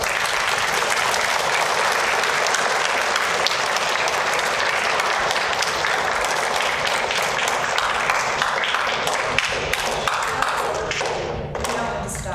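Sustained applause from a school assembly audience of fourth graders and staff, dense steady clapping filling the room for about twelve seconds with a few louder individual claps and thumps, tapering slightly at the end.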